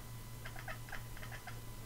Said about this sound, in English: my cat is seeing a bird outside